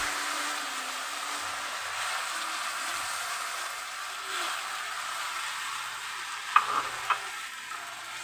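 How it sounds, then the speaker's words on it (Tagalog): Shrimp and broccoli stir fry with sauce sizzles steadily in a pan, with gentle stirring and a couple of sharp utensil taps near the end. "Haluin lang natin ng ilang mga minuto pa"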